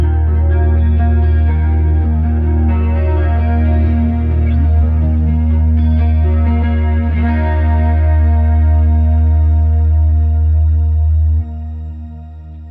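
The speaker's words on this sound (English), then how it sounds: "the shimmer reverb is part of that when you're playing clean" A clean electric guitar through the Neural DSP Archetype Petrucci plugin with shimmer reverb: sustained, layered chords ring with a bright, octave-up wash and long tails, loud and continuous, fading slightly at the end, with no talk.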